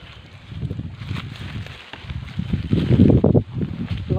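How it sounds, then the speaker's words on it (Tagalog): Strong wind buffets the microphone in low, rumbling gusts that swell and fade, growing loudest toward the middle and end, outdoors during kite flying. "Lakas ng hangin."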